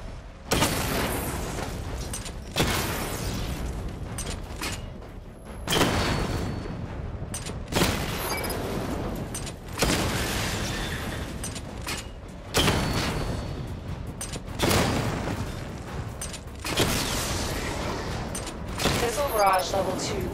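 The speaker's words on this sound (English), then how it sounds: "Charge the missile barrage to level 2 to destroy up to 4 targets at once." Batmobile missile barrage firing in Batman Arkham Knight, a repeating series of loud booming volleys roughly every two seconds, each fading into rumbling explosions.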